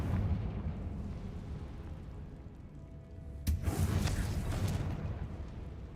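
Confringo fire spell explosion in a Harry Potter video game: one sudden booming burst midway that decays into rumble over a low, continuous game background.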